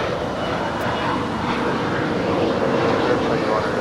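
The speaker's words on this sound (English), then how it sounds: "This is Japan Airlines coming in from Tokyo, Haneda" Japan Airlines Boeing 787-9 Dreamliner on arrival from Tokyo Haneda at LAX, a continuous heavy engine roar, loud and steady throughout, with a voice speaking over it.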